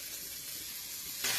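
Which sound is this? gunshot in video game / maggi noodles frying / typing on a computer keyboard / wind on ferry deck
maggi noodles frying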